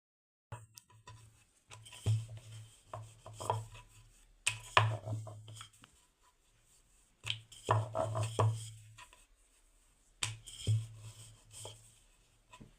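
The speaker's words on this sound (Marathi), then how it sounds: "अशा पद्धतीने मी इथे सर्व पुऱ्या लाटून घेणार आहे" Puri dough is rolled out with a rolling pin, giving repeated soft rolling thumps and rubbing strokes in bursts separated by short pauses, close and quiet.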